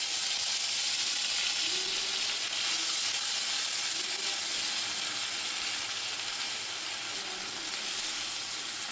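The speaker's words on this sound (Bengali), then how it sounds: "আদাটা একটু ভাজা ভাজা হবে" Ginger paste frying in hot oil, a continuous bright hiss and sizzle holding steady throughout, close and fairly loud, with no voices.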